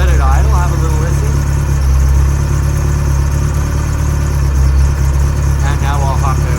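A 38K-mile 1981 Ferrari 308 GTSi with a 5-speed manual idles close up with a deep, steady, even rumble, while faint voices are heard briefly beneath it.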